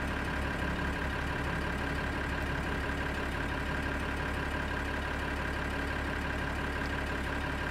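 A tractor engine in Farming Simulator 2013 runs steadily at a low idle-like drone, continuous and fairly loud throughout with no talking.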